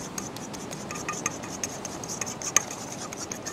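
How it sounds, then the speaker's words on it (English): A whisk scrapes and rubs steadily through egg blended into a starchy cornstarch and grated potato mixture for rösti or latkes, a soft continuous rasp with small clicks against the bowl, close and quiet, no talking. "I'm going to go ahead and whisk that egg right in there"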